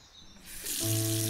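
Kitchen tap turned on to wash carrots, water rushing and splashing steadily close by after a short quiet start.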